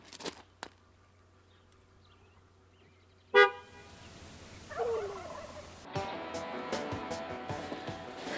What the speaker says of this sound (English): honk the horn one time